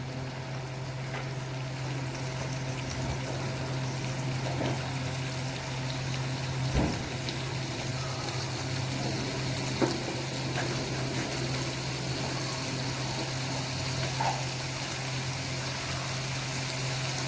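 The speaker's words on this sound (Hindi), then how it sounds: "इसको हम फ्राई करेंगे, थोड़ा जो है गोश्त हमारा नरम हो जाए।" Meat and ingredients frying in oil in a pan, a steady close bubbling sizzle with a continuous low hum underneath and no pauses.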